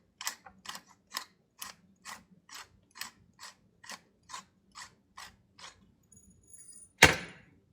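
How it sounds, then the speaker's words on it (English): A pepper mill grinding fresh black pepper gives about a dozen evenly spaced, close ratcheting crunches, followed by a single sharp knock at the end. "And I'll also add some salt and some fresh ground pepper."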